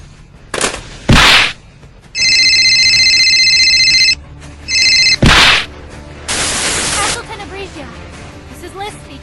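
A telephone rings from a wrong-number call, sounding as an electronic trill in two bursts, one long and one shorter, between loud sharp bangs and other noises.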